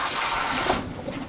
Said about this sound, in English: Rinse them with some cool water to stop them from cooking.